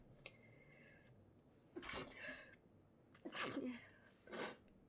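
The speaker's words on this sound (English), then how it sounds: "I have to sneeze." A person sneezes loudly and close up, with a sharp burst followed by a second, stronger sneeze and a final one, all against a quiet background.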